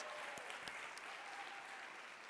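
A room full of people applauds, a steady even wash of clapping, fairly faint and distant, with a few sharper claps standing out.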